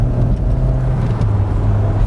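Citroen BX engine running steadily with a crisp throttle, a loud, close, continuous low drone with no talk.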